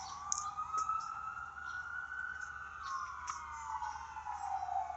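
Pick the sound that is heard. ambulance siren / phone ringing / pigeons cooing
ambulance siren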